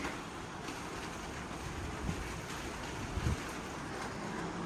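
Steady wind rushing and buffeting against the microphone, a constant broadband roar with a couple of low thumps, no voices.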